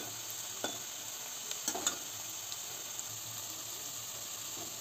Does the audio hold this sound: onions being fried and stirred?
yes